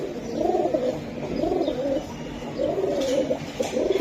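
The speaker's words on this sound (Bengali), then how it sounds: "এই যে নর কবুতরটা" Pigeons, including a male, coo in repeated soft, rolling phrases close by, with short pauses between each call and no talk over them.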